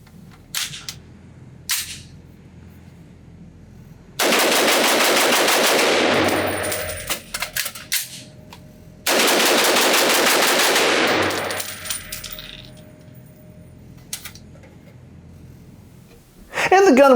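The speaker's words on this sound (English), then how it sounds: "So let's just see how fast I can shoot this, how fast I can get this magazine change out" A Sig Sauer MCX Spear LT pistol in 7.62x39 fires two long, very loud strings of rapid shots at an outdoor range, split by a pause for a magazine change, with a few single shots and voices before and after.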